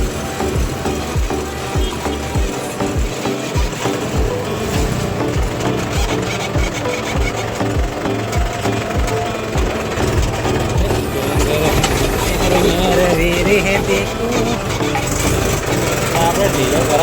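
A tractor loaded with sand drives along with its diesel engine running, a loud, continuous chugging rumble throughout.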